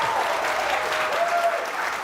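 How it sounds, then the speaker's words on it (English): Convention crowd at San Diego Comic-Con applauding William Shatner, a dense, continuous wash of applause and some cheering filling a large hall, loud and steady throughout. "Everyone get ready to applaud for the one, the only, the legendary Mr."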